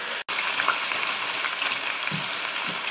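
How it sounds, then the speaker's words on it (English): Beef sears in hot olive oil inside a Dutch oven, a loud, continuous close-up sizzle with a faint crackle throughout and one sharp break near the start. "you see how that's sizzling?"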